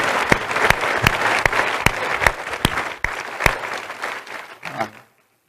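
Luncheon audience at a community foundation event applauding one another, a dense sustained round of clapping with distinct sharp hand claps throughout that fades out abruptly near the end.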